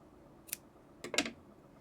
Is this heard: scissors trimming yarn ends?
yes